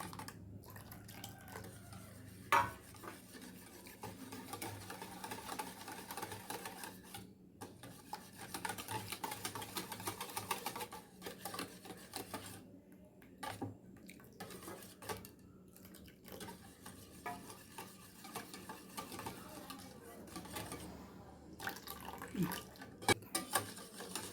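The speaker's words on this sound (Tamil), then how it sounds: "கொஞ்சம் நல்லா அடித்தோம்னா நல்லா ரெண்டு எல்லாம் செட்டாகி வந்துடும்" Egg, milk and sugar mixture being beaten in a bowl, faint quick irregular stirring and clinking of a utensil against the bowl, with soft background noise.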